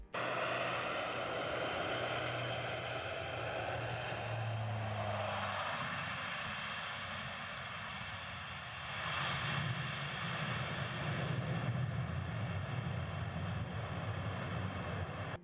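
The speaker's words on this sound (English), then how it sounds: "This C-130J Super Hercules performs a so-called assault landing on a grass strip." A C-130J Super Hercules propeller aircraft drones loudly and steadily during an assault landing on a grass strip, its engine pitch shifting as it slows and then surges again after touching down.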